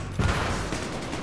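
An AK rifle fires in Battlefield 3, a short burst of loud, close gunshots blending into a dense crackling rattle, no voices over it.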